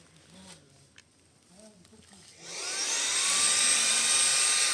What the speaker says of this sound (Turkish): Şimdi araç süpürgesiyle şişme çadırımızı